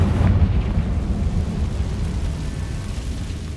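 A Confringo blasting spell explodes in Hogwarts Legacy: a deep, heavy boom hits at once and its low rumble slowly fades over the next few seconds.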